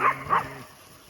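Two quick, muffled barks from a dog on a hot summer day, close by and moderately loud, followed by quiet.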